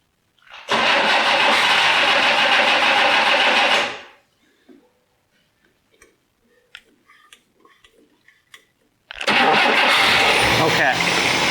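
A 1962 AMC Rambler engine cranks and roars loudly for a few seconds, cuts out to quiet ticking and rattles, then fires up loud again.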